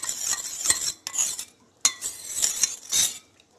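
A spoon stirs custard powder into cold milk, giving close, bright clinks and scrapes against the bowl in quick irregular bursts with brief pauses between them.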